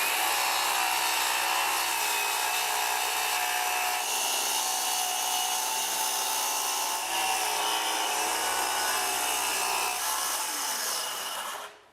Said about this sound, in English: the first thing I have to do to this thing aside from take all the hardware off the bottom is cut it in half